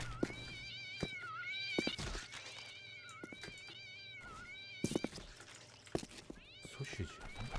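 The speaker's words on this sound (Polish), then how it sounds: "Koty z nieba lecą?" Several cats meow repeatedly after falling from the sky in the Postal 2 video game, with overlapping, wavering cries alongside sharp thuds of impact and game sounds.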